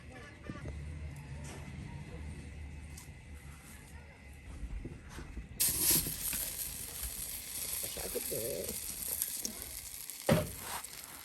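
Drumstick flower fritters (sajna phool bora) dropped into hot oil in a village kitchen, giving a broadband sizzling hiss that grows louder and busier halfway through and continues steadily under occasional nearby voices.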